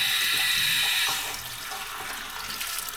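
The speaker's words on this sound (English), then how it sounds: "It's nice warm water. Man, I don't know if you can see the water coming off this thing" Warm tap water streams from a faucet over a Camaro air filter being rinsed, a loud steady hiss that softens slightly partway through, close and alone.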